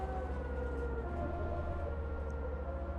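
A wailing ambulance siren sounds steadily throughout inside the Bus Simulator 16 video game, fairly faint and continuous beneath the low drone of the bus engine.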